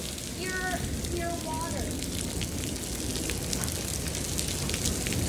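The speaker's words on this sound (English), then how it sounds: "so it's raining and hailing." Steady, dense rain mixed with hail pattering loudly on a surface, with a few brief tonal chirps early on and no clear talking.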